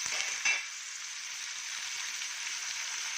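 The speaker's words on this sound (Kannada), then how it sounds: "ಇದೆಲ್ಲ ಸ್ವಲ್ಪ ಎಣ್ಣೆಯಲ್ಲಿ ಬಾಡಿಸ್ಬೇಕು ಚೆನ್ನಾಗಿ" Chopped onion, tomato and eggplant pieces sautéing in hot oil in a pan, giving a steady close hiss and sizzle throughout with a brief stir or clatter near the start, no talk.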